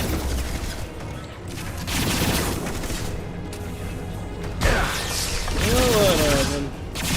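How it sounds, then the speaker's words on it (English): Gunfire in the video game Mass Effect 2 on hardcore difficulty: repeated bursts and booms of weapon fire mixed with in-game noise and voices talking over the action. "Taking heavy fire."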